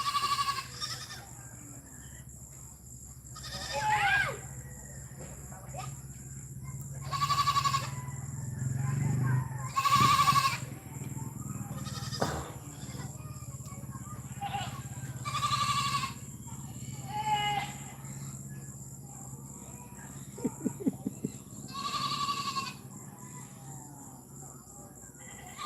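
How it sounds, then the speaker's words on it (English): Goats bleat repeatedly at mid distance during a chase in Bohol, with several separate calls spread through the stretch, over a steady background hum and some faint rustling. "Chasing the goats."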